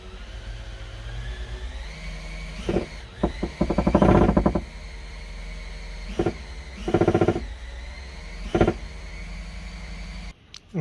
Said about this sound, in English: I'm going to put a priming tool in where the distributor goes, spin the oil pump, get some oil pressure up